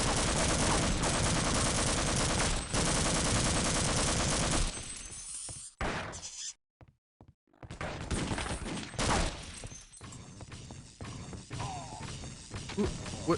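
Dense, loud gunfire from the video game Half-Life: Opposing Force, a sustained rattling barrage for several seconds that cuts out abruptly, then resumes with scattered shots and clatter after a brief near-silence.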